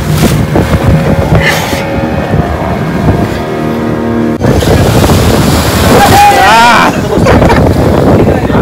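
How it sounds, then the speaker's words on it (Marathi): Strong sea waves crash and churn steadily at Bhogave Beach, loud and close, with wind buffeting the microphone, a boat engine droning, and people talking over it. "जोरदार लाटा येतात."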